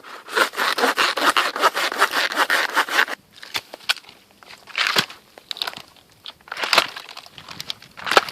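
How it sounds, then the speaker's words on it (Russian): An old Soviet-made hand saw cuts through wood outdoors in a snowy winter forest, first with fast, even back-and-forth strokes, then with slower, scattered rasping and crunching. "Советская еще пила. А? Хорошо пилит."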